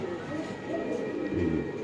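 Pigeons at a Bangladeshi pigeon seller's stall coo in low, soft, continuous murmurs, fairly close, with a steady background hum and no clear talk.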